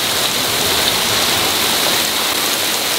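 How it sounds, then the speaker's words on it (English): Rain falling steadily around a boat, a dense, even hiss that stays loud and unbroken throughout with no voices. "here comes the rain again"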